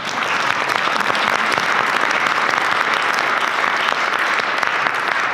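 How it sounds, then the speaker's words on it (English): A large audience at an architecture institute inauguration ceremony applauds steadily, a loud, even roar of many hands clapping without pause for over five seconds. "That's another applause line."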